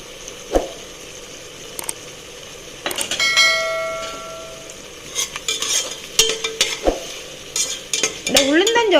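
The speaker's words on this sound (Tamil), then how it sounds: "இப்போ முந்திரி, தேங்காய், பச்சை மிளகாய், சோம்பு இதை அரைச்ச விழுதை சேர்த்துறேன்" Half-cooked onions frying in a pan as a ground paste of cashew, coconut, green chilli and fennel is added, with sizzling, a spoon scraping and stirring, and metal clinks of utensils against the pot.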